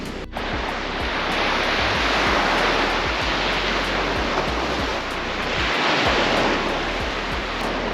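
Sea waves break on the shore in a continuous loud wash of surf that swells and eases, with wind buffeting close to the microphone.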